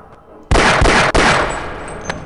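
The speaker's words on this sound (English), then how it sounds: "Stand still so I can shoot you to death." Loud sustained gunfire from the video game Half-Life: Opposing Force rips out in a dense, continuous burst, with one brief break before it resumes and trails off.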